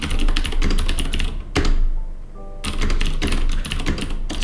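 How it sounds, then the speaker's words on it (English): A clicky Vortex TAB75 mechanical keyboard is typed on in quick, loud, close bursts of sharp key clicks, broken by a brief pause and a thunk before the typing picks up again. "I really don't want to stop typing."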